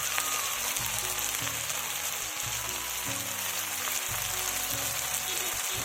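Spices with turmeric and salt sizzle steadily in hot oil in a pan, a continuous close crackling hiss with low stirring thumps beneath, loud and uninterrupted with no talk.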